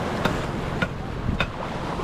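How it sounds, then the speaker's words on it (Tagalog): Ocean waves at dawn around a fishing mother boat, heard as a steady broadband wash with wind noise and a few soft surges of surf breaking nearby. "Ang ganda ng alon, no?"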